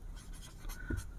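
Chalk scratches out a formula on a classroom board in short, quick strokes, close and clear, with no talking over it.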